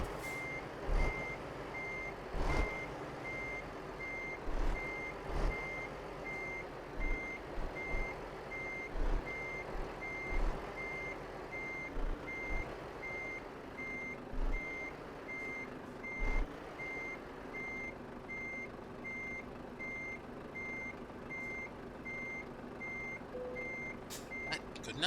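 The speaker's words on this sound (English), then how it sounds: "Sometimes there's something so satisfying about piloting a big, heavy truck in a sim like this." A heavy truck in a truck simulator game gives off a long run of regular reversing beeps that repeat evenly over a low engine rumble, fairly faint, with a few clunks mixed in.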